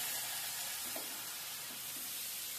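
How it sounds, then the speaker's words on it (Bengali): Boiled vegetables fry in a pan for a Bengali brinjal, pea and bathua greens bhaji, giving a steady, close sizzle with soft stirring scrapes and no voices. "এবারে অ্যাড করব আমি সিদ্ধ করা সবজিটাকে। এবারে ভালো মতো ভেজে নিব আমি"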